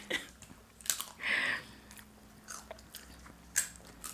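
Chipotle tortilla chips are bitten and chewed up close, with a few sharp crunches, one longer crunching burst and quieter chewing clicks in between, with no talk.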